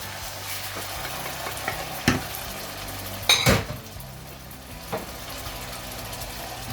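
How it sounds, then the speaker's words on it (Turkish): Chopped tomatoes go into a pan of sizzling onions and garlic, with a constant soft frying hiss and a few sharp utensil clinks and scrapes against the pan, with no talk. "doğramış olduğumuz domateslerimizi ekleyelim"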